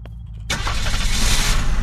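A car engine in the video game Unturned cranks and catches, then revs and runs steadily as the vehicle pulls away; a short, loud, close burst of engine noise.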